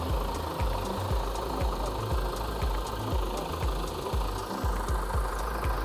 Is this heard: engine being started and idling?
yes